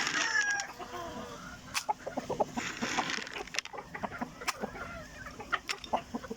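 Backyard chickens, including fighting roosters, cluck repeatedly during morning feeding, with a rooster crowing early on and irregular pecking and scratching sounds close by.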